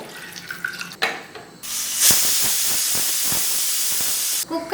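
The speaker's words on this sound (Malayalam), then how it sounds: "നമുക്ക് ഒരു അഞ്ചാറ് വിസിൽ വിട്ടെടുക്കാം" Pressure cooker cooking chana dal lets out a loud, steady hiss of escaping steam that holds for a few seconds, preceded and followed by quieter kitchen sounds.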